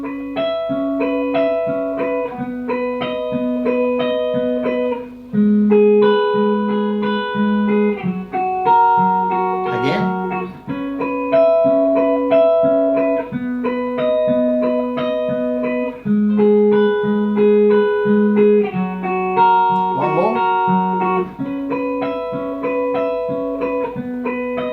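Guitar slowly plays a chord pattern, steady plucked notes repeating the same phrase about every five seconds, alone and fairly loud with no voice.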